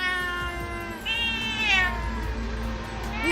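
Cats meow and caterwaul in long, wavering, overlapping calls, loud and near, one voice answering another with no talk over them.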